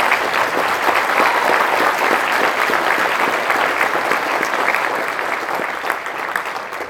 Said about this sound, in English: So please give a happy birthday round of applause for the Marine Corps.